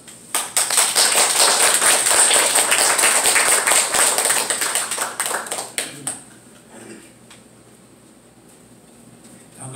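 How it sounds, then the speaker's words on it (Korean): Loud, dense clapping from a church congregation greeting a pastor to the pulpit, sustained for about six seconds before thinning out and fading into room quiet. "존경하고 사랑하는 마음으로 큰 박수로 맞아주시면 고맙겠습니다"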